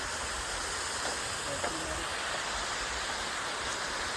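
An unseen waterfall gives a constant rushing roar, steady and even throughout, with faint voices briefly audible beneath it.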